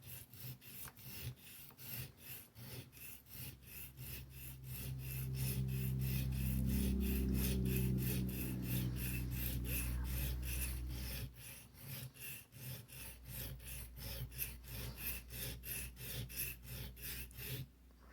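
A knife edge is ground by hand on a sharpening stone, giving steady rhythmic rasping strokes close by, heavier in the middle stretch and lighter toward the end, with no talking.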